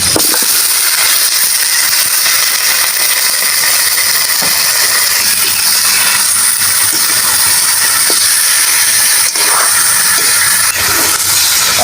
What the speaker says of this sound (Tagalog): Habang pinapaikot po natin yung ating pata sa ating mantika